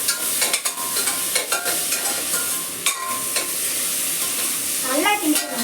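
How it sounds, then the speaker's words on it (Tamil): Ground shallots and green chilli being stirred hard in a hot pan, heard as a loud sizzle under repeated scraping and clattering strokes of a utensil, with no talk. "ஒரு லைட்டாக கிண்டாதீங்க, நல்லா கிண்டிக்கணும்"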